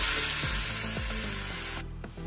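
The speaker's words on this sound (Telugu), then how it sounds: "ఇప్పుడు టమాటా ముక్కలు వేసి కాసేపు ఫ్రై చేద్దాం" Tomato pieces fry in hot oil for rice rava upma, a dense, bright sizzle that fills the pan closely and loudly, then drops away abruptly near the end.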